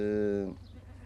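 A goat on a goat farm gives one loud, drawn-out bleat lasting about half a second, close by, then fades into quieter farmyard background.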